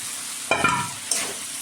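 Potatoes tip into a pan of spice paste frying in oil, setting off a loud burst of sizzling, then a spoon scrapes and stirs briefly over the steady background crackle of frying.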